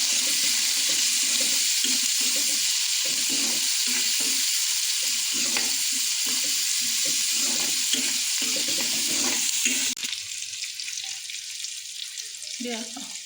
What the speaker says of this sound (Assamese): এইখিনি মই ধুনীয়াকৈ ভাজি ল'ম